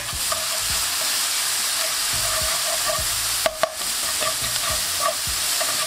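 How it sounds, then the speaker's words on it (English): Peppers, onions and spring onions sautéing in an oiled pan for loaded fries, a steady close sizzle with scattered scraping stirs and a couple of sharp utensil knocks partway through. "Here with your peppers, onions, and spring onions. You want to lightly saute these."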